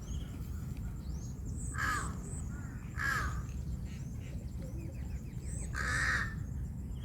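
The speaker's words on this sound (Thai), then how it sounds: "โอ้ย เสียงกา" Crows caw harshly by a rocky waterside where grey egrets and cormorants perch, with several loud calls spaced a second or two apart over a steady wash of background noise.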